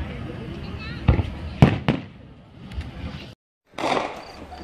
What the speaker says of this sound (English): So here's some of the fireworks going off.